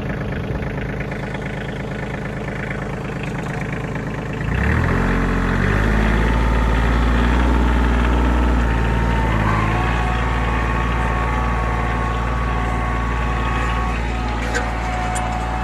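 A farm tractor's engine runs steadily while it pulls lavender root balls out of the ground with its bucket, idling lower at first and then rising into a louder, sustained working drone.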